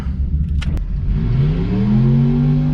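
A Coyote-engined Mustang GT revs at a drag strip launch. A couple of sharp clicks come first, then the engine climbs in pitch, rising loud and close into a sustained roar.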